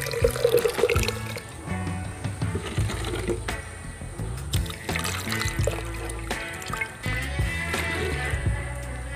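Leftover ingredient being rinsed with water into a closed container of about 2 liters, a steady splashing trickle and pouring running throughout at close range, with a few clinks and knocks against the vessel.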